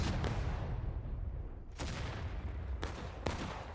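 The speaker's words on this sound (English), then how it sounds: "artillery is beginning to fire on the Union's position now they have taken their cannons" Artillery cannons firing in a multiplayer Civil War video game battle: several sharp booming blasts at irregular intervals over a constant low rumble of distant gunfire, fairly faint in the mix.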